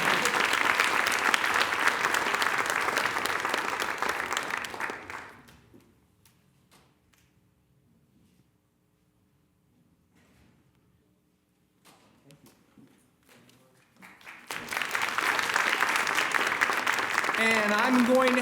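At an awards ceremony, audience applause rings out loudly for about five seconds and fades away. Near-silence follows, with a few faint sounds, and then a second strong burst of clapping rises toward the end.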